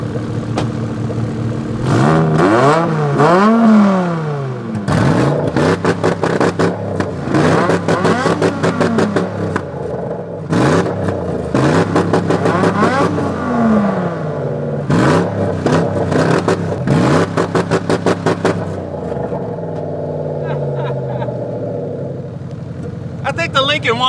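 Two engines rev in turn, a straight-piped BMW E60 M5 V10 and a V8 Lincoln, loud and close, with repeated rising and falling revs and sharp blips before a steadier idle near the end.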